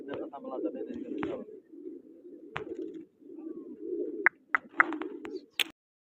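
Low, throaty pigeon cooing rolls on in repeated bursts, close by, broken by a few sharp clicks and chirps before falling silent.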